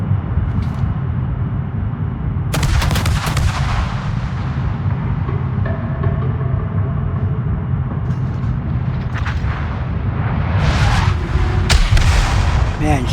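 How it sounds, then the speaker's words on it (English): Heavy naval combat in World of Warships, with booming artillery fire and sharp blasts over a dense rumbling game soundscape, including a missile striking the player's ship, loud and continuous with several bursts of impacts. "That was a missile that just hit me."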